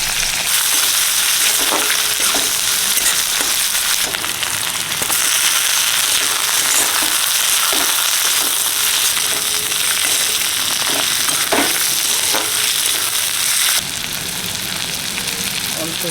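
Sliced onion and whole garam masala, including cardamom, cloves and cinnamon, fry in a pan with a loud, steady sizzle close by, with faint stirring scrapes now and then.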